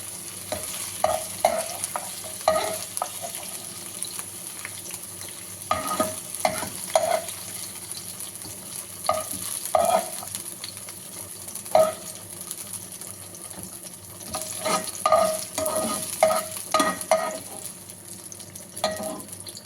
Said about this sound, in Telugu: ఇది ఇలా బాగా ఫ్రై అవనిద్దాము.